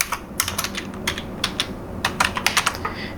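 Clicks of a computer keyboard as someone types in Excel and presses the Ctrl+S shortcut: a series of crisp, close, irregular keystrokes in short bursts, with no voices.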